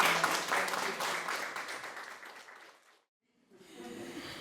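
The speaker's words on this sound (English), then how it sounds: "A round of applause, ladies and gentlemen" Audience applause at a book launch for a novel, a fairly faint, steady patter of clapping that fades out, drops to silence, then picks back up softly.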